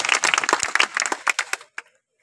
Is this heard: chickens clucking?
no